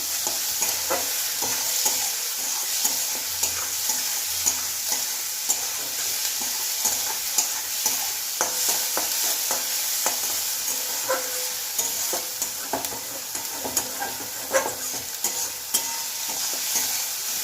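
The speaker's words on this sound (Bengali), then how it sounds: "এই যে একটু নুন দিয়ে দিচ্ছি পেঁয়াজের মধ্যে বড্ড ছিটকাচ্ছে" Chopped onions with salt sizzling and spattering steadily in hot oil, a continuous frying hiss with occasional sharper pops and stirring scrapes throughout, no voices.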